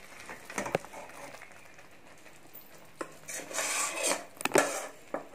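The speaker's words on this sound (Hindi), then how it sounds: "इसे आप अच्छी तरह से कटोरी में डाल दें" Thick milk cake mixture is scraped from a pan into a greased bowl, with a few sharp clinks of a metal spoon against the dishes and soft scraping in between, close up and with no talking.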